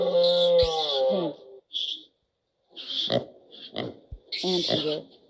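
A cartoon pig oinks in a short run of snorting grunts and squeals, close and clear, with a voice naming the animal in between.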